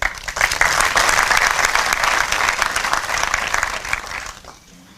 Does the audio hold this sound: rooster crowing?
no